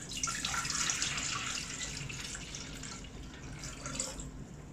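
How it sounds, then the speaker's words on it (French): About 800 ml of water pours into a Thermomix bowl for cooking sticky rice, a steady close splashing stream that continues throughout the few seconds, gradually easing slightly in level. "pour le Thermomix, je vais ajouter à peu près 800 ml d'eau"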